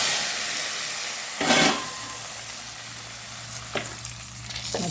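Hot tempering poured into ridge gourd sambar gives a sudden loud hissing sizzle that fades, followed by a couple of short clattering bursts over a steady low hiss, close by, with no talking.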